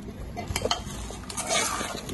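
Spoon scraping and stirring a spiced filling with soy sauce and salt in a bowl for stuffed chillies, a few close clinks and rustling mixing sounds.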